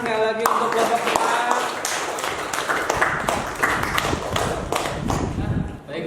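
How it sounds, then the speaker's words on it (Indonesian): Classroom group applauding a presenting group of students: dense, steady clapping from many hands lasting several seconds at close range, with some taps and thumps mixed in. "Berikan tepuk tangan sekali lagi untuk kelompok kita."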